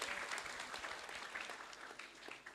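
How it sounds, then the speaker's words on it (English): Audience at an international nursing short course clapping for an introduced speaker, a steady burst of applause throughout, fairly distant and soft, with a faint voice. "Please give applause for her."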